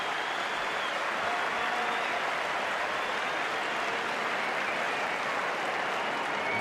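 A cricket crowd applauds Damien Martin reaching his half century in an Australia vs Pakistan one-day international, a steady, dense wash of clapping that holds throughout without a break.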